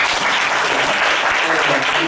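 A church congregation applauds during a Sunday service, giving a brief, loud, continuous burst of clapping that fills the whole moment without a break.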